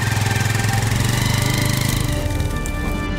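A motorcycle engine runs with a steady, loud, rapid pulsing beat on a rough forest track, close by and without talk.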